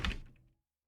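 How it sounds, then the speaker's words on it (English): Thin sliding door at a tranquil spa being slid open, a single soft, brief thunk that fades quickly into silence. "He slides the thin door open for you."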